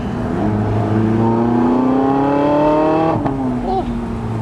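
A Porsche 918 Spyder hypercar engine revs up in a loud, rising whine that climbs steadily for about three seconds, then drops sharply and settles back, heard up close.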